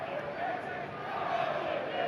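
Football crowd at Sky Stadium during an A-League men's match between Wellington Phoenix and Macarthur Bulls, a steady, broad crowd murmur swelling slightly toward the end, with a commentator speaking over it.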